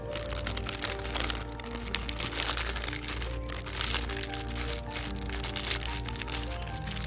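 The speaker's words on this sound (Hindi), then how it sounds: "इस रैपर की पन्नी पर जो बारूद है उसमें हम ये 8-10 कंकड़ डालेंगे और उसे एक पुइया की तरह बना लेंगे।" Firecracker wrapper foil holding gunpowder and pebbles is crumpled into a small packet, giving a steady close crinkling and crackling under a busy, dense background.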